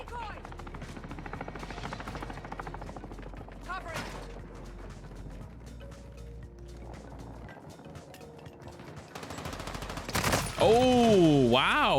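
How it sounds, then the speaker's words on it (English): Bursts of automatic gunfire from a teammate in a Call of Duty match with an M4 setup, loud and clattering through most of the stretch, with game speech, background effects and a sharp swelling mechanical whine near the end. "I don't understand where he was shooting at right there"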